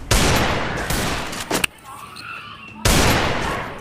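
Gunfire in the mobile shooter game Free Fire during a lone-wolf match, with loud dense bursts of shots at the start, a short quieter gap, then another heavy volley near the end.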